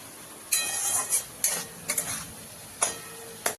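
Spiced masala of turmeric and chili for a Bengali fish curry sizzles in a pan, with several sharp stirring and scraping strokes of a utensil over a low, steady background hiss.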